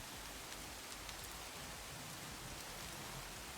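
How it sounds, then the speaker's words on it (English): Rain in Minecraft falls as a soft, even hiss of drops, steady and unbroken with no speech. "I'm gonna turn that rain off."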